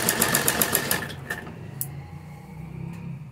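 A sewing machine runs a rapid, steady burst of stitching through the lining on the back panel of palazzo pants, then stops and leaves soft handling noise and quiet room hum.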